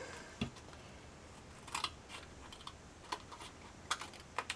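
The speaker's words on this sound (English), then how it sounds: "All you're going to do is just go all the way around, trimming off the balloons." Scissors trim around paper balloon shapes on a handmade birthday card, giving faint, scattered snips and small clicks over a quiet background, with no talking.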